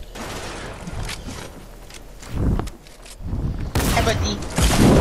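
Gunfire in Fortnite Zone Wars, dense crackling shots and bursts that build toward the end, mixed with movement and game noise and no clear speech.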